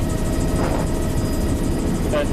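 Steady loud helicopter drone inside the cabin during flight, a continuous rotor and engine roar filling the whole clip with faint voices in the background.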